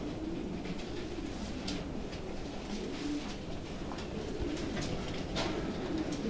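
Racing pigeons in a loft coo steadily in low, rolling murmurs that overlap throughout, with faint scattered higher chirps and rustling above a constant background hum.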